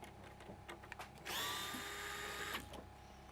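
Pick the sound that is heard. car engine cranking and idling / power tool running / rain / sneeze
power tool running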